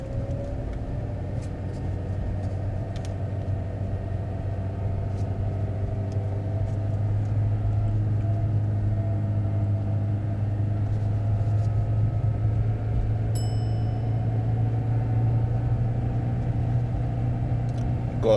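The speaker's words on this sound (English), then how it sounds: "The revs get too high and you can hear the car screaming" A car held in first gear during a mock driving test revs too high, its engine droning in a loud, steady strained hum that climbs slightly and never drops for a gear change, with road rumble underneath.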